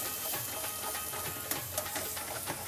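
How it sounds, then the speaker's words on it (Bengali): Chopped tomato stir-fried in a pan for a Punjabi tadka, a steady close sizzle and hiss with faint scraping of the stirring spoon and a few sharp spatters. "দিয়ে খুব ভালো করে নেড়ে ভাজতে হবে যতক্ষণ না টমেটোটা গলে যায়।"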